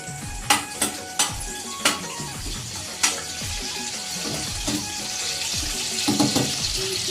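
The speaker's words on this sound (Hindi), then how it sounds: "तो तेल गरम हो गई संगवारी हो, तो लहसुन डाल लेते हैं।" Garlic and chili hit hot oil in a pan and sizzle steadily, with sharp clinks of a spoon stirring and scraping at intervals.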